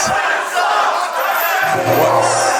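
Wrestling crowd roaring and shouting with anticipation at a live match, a dense continuous wall of cheering voices that swells louder toward the end.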